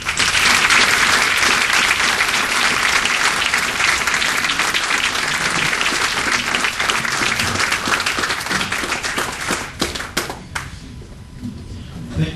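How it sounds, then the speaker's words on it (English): Graduation audience applauding staff at the ACE 2005 ceremony, dense sustained clapping from a large crowd that thins out near the end. "a warm round of applause and thanks to all of you"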